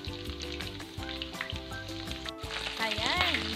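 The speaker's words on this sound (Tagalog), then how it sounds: "Make sure po na maging golden brown ang kulay ng ating bawang" Chopped garlic sizzles and fries steadily in a hot pan for a Filipino Ilocano-style batso dish, with a continuous crackle, some stirring clatter and a rising tonal squeal near the end.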